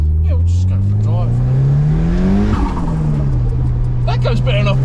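A Ford Sierra Cosworth Rouse Sport 304R engine revs up loudly from inside the car, its tone climbing steadily before a gearshift drops it and it pulls again, with voices talking over the engine noise.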